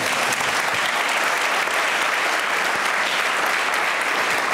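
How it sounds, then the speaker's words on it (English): A New Jersey audience at a political event gives loud, continuous applause, a dense wash of many hands clapping without pause for several seconds. "That deserves applause."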